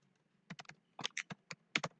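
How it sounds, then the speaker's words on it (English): Quick, light clicking of keys on a computer keyboard, a burst of short taps in small clusters, quiet and close with no talking. "let me type"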